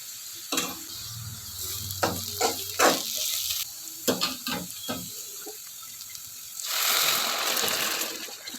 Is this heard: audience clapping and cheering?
no